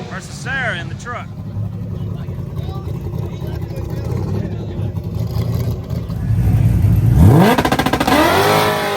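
Stick shift class street cars launch and accelerate hard down a drag strip, engines revving and rising in pitch with a loud roar building toward the end, under constant crowd and announcer talk.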